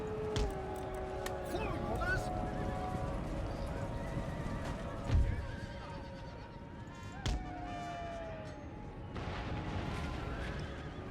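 Lancer cavalry horses gallop in an Empire: Total War battle, a steady clatter of hooves with whinnies and neighs over a dense battlefield din, a couple of louder thumps rising from the mix.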